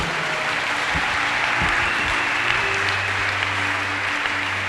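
Congregation applauding in a church, a steady wash of hand claps filling the space at even loudness throughout, with low murmuring underneath.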